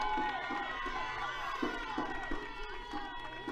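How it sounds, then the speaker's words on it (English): Spectators at a high school softball game between Minor and Fultondale cheer and shout after a base hit that scores runs. It sounds like a modest crowd at moderate distance, with scattered voices and some rhythmic claps or thumps. "Base hit. Wakes up the crowd."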